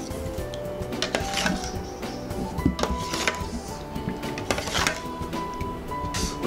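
Pani puri filling being mixed with chaat masala in a bowl gives steady clinking and scraping of a spoon against the dish, with scattered sharp knocks throughout, close and moderately loud.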